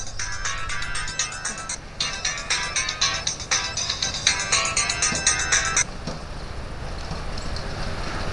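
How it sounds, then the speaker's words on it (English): A mobile phone rings outdoors during a slackline setup, a repeating melodic ringtone pattern that plays for several seconds against faint background noise and then stops. "You might be hearing my phone too."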